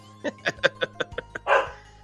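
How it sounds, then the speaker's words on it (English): A dog barks in a quick series of about six short, sharp yaps, ending in a louder, rougher bark; moderately close. "She's barking in the background."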